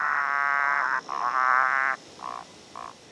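A frog croaks in a loud, rhythmic run of two long trills, followed by two short, softer croaks, heard up close with no other sound.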